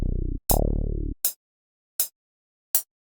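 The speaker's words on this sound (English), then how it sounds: "Next, I added a bass, and I didn't want to do the same bass that I always do with these loops." Deep synth bass line in a music loop, two loud booming notes with buzzy sustain, followed by three evenly spaced sharp percussive hits, heard alone and close.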